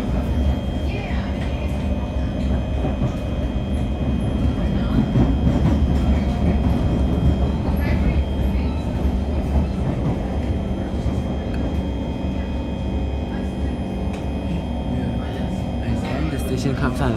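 A C151 metro train rides from Expo to Tanah Merah, heard from inside the car as a continuous loud rumble and whine with faint rail clicks, and a voice speaking over the noise.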